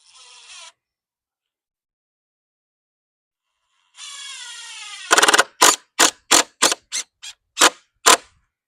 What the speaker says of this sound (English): Now we're going to run some decking screws in there.